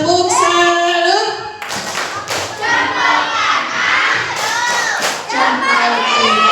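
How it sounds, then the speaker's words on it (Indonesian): Schoolchildren at an elementary school event marking Isra Mi'raj chant together in the 'tepuk salut' clapping routine, loud sung voices punctuated by sharp group claps and thuds in rhythmic bursts, close by. "Sekali lagi yang semangat, tepuk salut."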